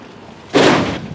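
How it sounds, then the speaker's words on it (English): A single sharp bang from the neighbours' roof being redone, one sudden loud thud or slam that rings out briefly and then fades. "The neighbors are getting their roof redone."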